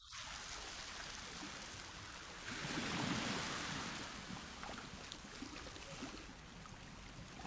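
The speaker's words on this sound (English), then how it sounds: "Listen to this nice theta wave music of" Steady ocean waves wash and roll continuously in relaxing theta wave music, a soft, even surf that swells slightly midway and carries on alone with no voice.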